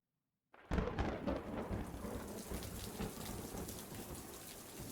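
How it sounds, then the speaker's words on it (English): A thunderstorm: after a moment of silence, a loud crack of thunder breaks in and rolls into a long rumble over steady heavy rain. "Thunder tears through the sky, startling me awake."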